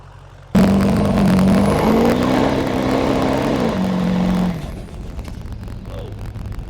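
A 4WD diesel truck running 40 psi of boost launches hard from a standstill, its loud engine roar rising and holding for about four seconds before easing off to a lower rumble, close by with no talking.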